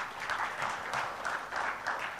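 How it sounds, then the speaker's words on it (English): Audience applause at a technology leadership summit in India, welcoming a speaker onto the dais: a steady, dense wash of clapping throughout, moderately loud and continuous, with no talking over it. "please come on the dais with a huge round of applause"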